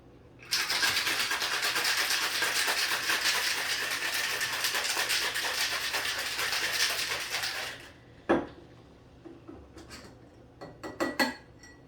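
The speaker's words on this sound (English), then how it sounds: "top it off and shake it up." A Maker's Mark cocktail shaken hard with ice in a shaker: a loud, steady rattling of cubes for about seven seconds, then silence broken by a few separate clinks and knocks nearby.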